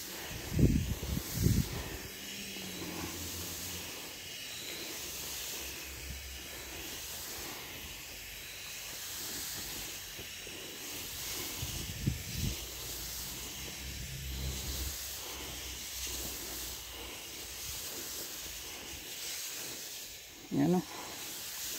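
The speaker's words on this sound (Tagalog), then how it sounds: "Sprayan natin pamulaklak" Sprayer misting insecticide and bloom booster onto kidney bean plants in a garden, a steady hiss running nearly the whole time, with brief handling knocks and faint voices now and then.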